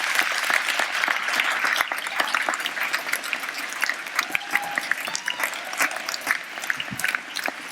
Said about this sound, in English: I don't mean to spoil the applause